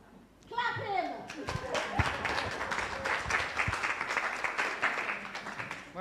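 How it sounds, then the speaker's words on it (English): An audience claps for Mervin, an honoree at a Louise Bennett-Coverley symposium session, after a brief spoken prompt; dense steady applause fills the hall for several seconds with voices mixed in. "Clap him!"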